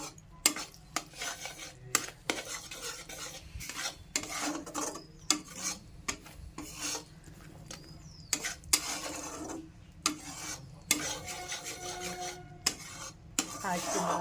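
White sesame seeds and jaggery are stirred in a pan, a spoon repeatedly scraping and rasping against the metal in an irregular rhythm of close, distinct strokes, with occasional soft talk.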